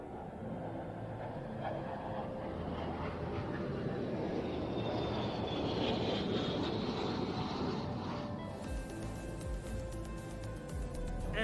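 A Frecce Tricolori MB-339 jet roars past at an airshow, a broad, sustained engine rumble that swells and then fades into a more distant whine.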